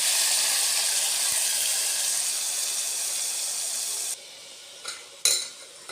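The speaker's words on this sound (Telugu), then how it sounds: "కొంచెం ఈ మసాలాను అయితే ఇలా ఫ్రై చేసుకోవాలండి." Ground coconut, ginger, garlic and spice masala frying in oil, with a loud steady hiss of sizzling that cuts off abruptly, followed by a couple of clinks and scrapes of a utensil against the pan.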